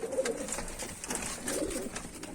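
A white homing pigeon coos softly and repeatedly in a small coop, close by, the low throaty calls rising and falling without voices.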